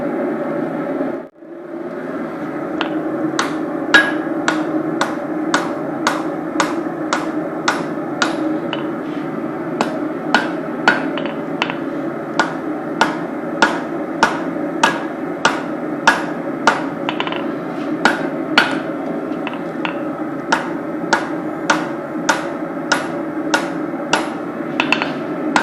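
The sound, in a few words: hammering knife stock on an anvil while forging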